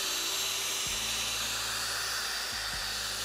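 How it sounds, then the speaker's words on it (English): A buffing pad runs rubbing compound over a car headlight, making a steady high whine and hiss that holds constant throughout, with a couple of brief dips in pitch as the pressure changes. "now we're just gonna do a rubbing compound on the light."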